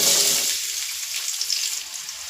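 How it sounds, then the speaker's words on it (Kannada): Onion hitting hot oil in a pan for an egg sambar, giving a loud, steady frying sizzle that starts bright and settles into a continuous crackling hiss, with no talking. "ಎಣ್ಣೆ ಬಿಸಿಯಾದ ಮೇಲೆ ನಾನಿಲ್ಲಿ ಒಂದು ಈರುಳ್ಳಿನ ಹಾಕ್ಕೊಳ್ತಾ ಇದ್ದೀನಿ"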